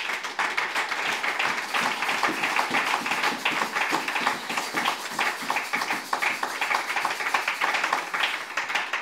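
A congregation at a church service applauds to acclaim Jesus: dense, steady rapid clapping from many hands continues throughout at a loud, even level.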